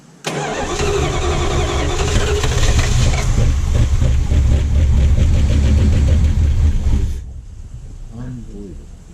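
A 1978 Plymouth barn-find car engine runs loudly and close up, a rough, steady mid-pitched idle that holds for about seven seconds, then cuts out abruptly, leaving faint background sounds.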